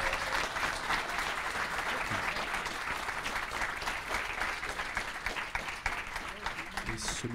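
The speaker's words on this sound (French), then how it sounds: "je vous demande également un tonnerre d'applaudissements" A convention audience at a talk breaks into sustained applause, a thick, steady wash of many hands clapping that stays even for several seconds, with a faint voice surfacing near the end.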